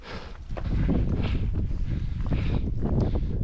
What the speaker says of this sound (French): C'est le vent surtout en fait.